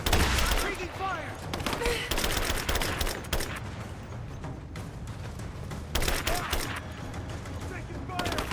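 Dense, continuous gunfire and bursts in the Rise of the Tomb Raider video game, volleys of shots rolling over one another with heavy thuds, while voices shout through the firefight.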